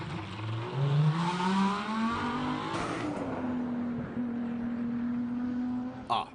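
A Lamborghini Huracán GT3 race car with a 5.2-litre naturally aspirated V10 climbs a hillclimb course, its engine note rising through the gears, shifting and then holding a high steady pitch as it passes.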